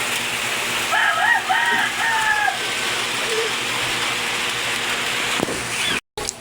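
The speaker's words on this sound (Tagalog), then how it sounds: "Lakas ng ulan" Heavy rain pouring down at night during crab hunting in the Philippines, a constant loud hiss of water with a brief voice-like sound near the start and a sharp knock before a short dropout.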